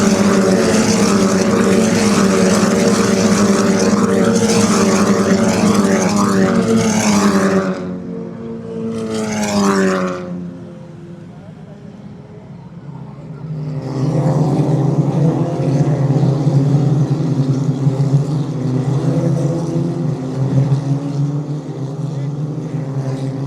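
Race cars at full speed on the Nogaro circuit during the Easter cup meeting: a loud, sustained engine roar, a sharp pass-by that fades, then another car's engine swelling back in close and loud.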